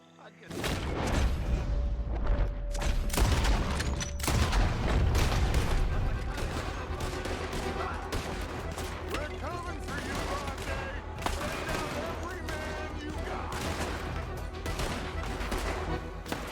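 Shotgun and Lancaster repeater fire in Red Dead Redemption 2 crack out in a dense, chaotic gunfight, with rapid shots and booms overlapping throughout under occasional talking.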